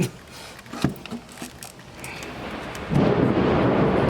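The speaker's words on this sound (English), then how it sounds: "Ooh, thunder." Thunder rolls in from a distance, a few low rumbles and cracks, then a loud, sustained roar of rain or storm noise swells up in the last second, with no speech.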